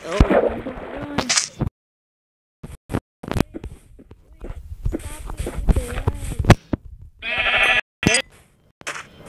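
Sheep bleat repeatedly in the video game Survival Craft, several bleats broken by sharp cuts and game sounds, with a player talking in between.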